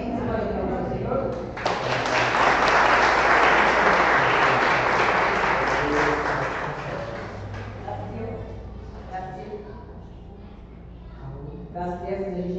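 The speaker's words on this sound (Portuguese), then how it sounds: "Você pode aplaudir ao Senhor?" A church congregation breaks into loud, sustained applause that swells, then slowly fades into scattered clapping and murmuring voices.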